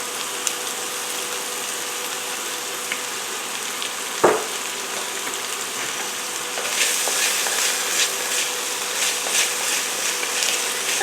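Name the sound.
sautéing diced celery, carrots and onions in pan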